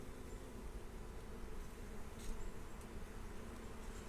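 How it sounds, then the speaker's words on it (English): Honeybees buzz steadily around an opened hive during a frame check, a dense, continuous drone close by with no talking. "Be careful about doing those kind of gestures in front of the hive because they can get startled."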